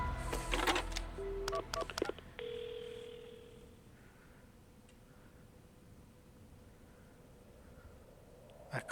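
Telephone dialing in the video game Paranormasight, a quick burst of keypad button beeps and tones at the start followed by a steady held dial tone, then a quiet hiss with soft faint pulses.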